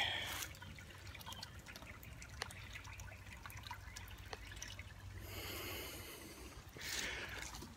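Creek water trickles and drips faintly and steadily outdoors, with a few louder splashing swells.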